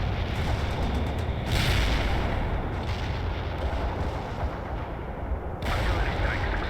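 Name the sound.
artillery strike explosions in video game World in Conflict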